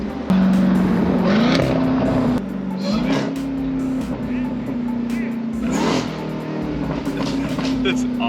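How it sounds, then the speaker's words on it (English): A Jeep Grand Cherokee Trackhawk accelerates with a steady high supercharger whine rising over engine roar and road noise, recorded close from the vehicle, with people talking over it. "the supercharger whines like crazy"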